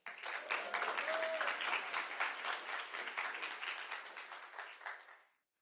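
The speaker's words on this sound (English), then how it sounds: "So please, everyone give a round of applause for my friend and our CYDL family," Audience applause at a graduation ceremony, a brisk burst of clapping from a gathered crowd that holds steady, then thins and fades out after about five seconds.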